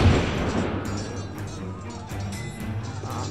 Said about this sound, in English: It launches mortar bombs.